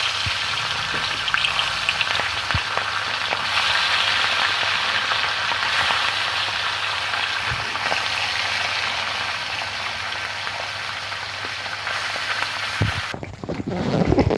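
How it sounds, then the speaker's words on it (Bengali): Small puti fish frying in hot oil, a loud, dense, continuous sizzle and crackle that persists throughout, close up, with no talking. "আমার তেলটা গরম হয়ে গেছে, মাছগুলো ভেজে নেবো"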